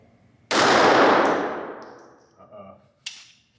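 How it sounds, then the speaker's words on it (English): A brand-new Glock 43 pistol fires one loud, sharp gunshot with a long ringing tail, followed by a clatter and then a second, smaller metallic snap a few seconds later. "this is a brand new Glock that is being shot for the very first time"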